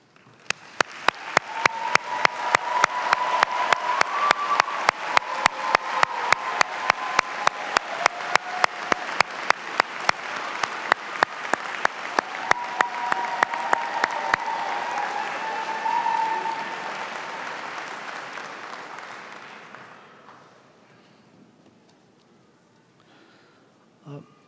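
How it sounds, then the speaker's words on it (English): Audience at a business school spring commencement ceremony applauds graduates being recognized, a dense sustained round of clapping that builds and then tapers off over about twenty seconds, with no talk over it. "please stand so that we can recognize you with a round of applause."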